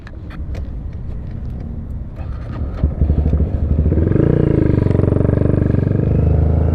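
A motorcycle's engine rumbles steadily during emergency braking practice, growing louder and more insistent toward the end as the bike works through its stop, with no talk over it.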